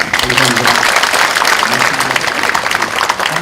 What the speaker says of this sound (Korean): 우리 선생님께 큰 박수 한번 주십시오.